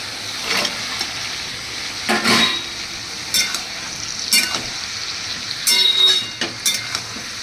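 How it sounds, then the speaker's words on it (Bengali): Potato pieces tumble into ridge gourd in a hot frying pan, giving a steady sizzle broken by several sharp scraping and clattering bursts as the pieces are tossed and stirred close by, with no talking. "এবার দেখো এর মধ্যে আমি দিচ্ছি আলুগুলো।"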